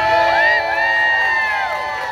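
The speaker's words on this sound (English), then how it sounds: "Do you know why they're clapping and cheering?" A crowd at a junior division event cheers and whoops loudly for a couple of seconds, bright excited voices and shouts overlapping at close range.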